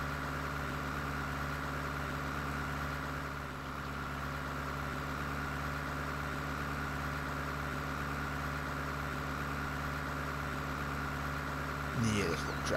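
A small tractor idles in Farming Simulator 19, a steady low engine drone with a constant hum that runs unchanged throughout, with a short clatter near the end and a voice speaking faintly.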